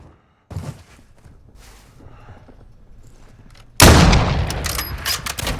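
Gunfire in Call of Duty Modern Warfare 2 starts with a few scattered sharp shots and low rumbles, then a loud close burst of sustained automatic fire takes over and continues to the end.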